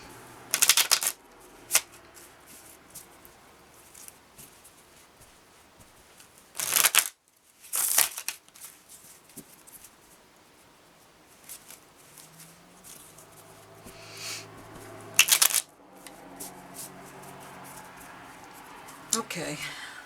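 A deck of cards is riffle-shuffled in several quick, crisp bursts up close, with softer card handling between them and a voice talking quietly at times.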